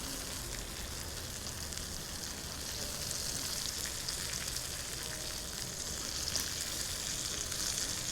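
Juicy tomatoes sizzle in a hot pan with a loud, continuous hiss and fine crackle, close and unbroken, swelling slightly partway through, with no talk.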